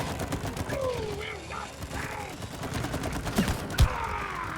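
Gunfire from a weapon in the video game It Takes Two, a few scattered shots and one sharp louder blast near the end, mixed with game sounds and music while voices talk.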